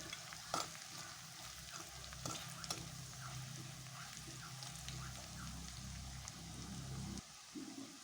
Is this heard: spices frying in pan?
yes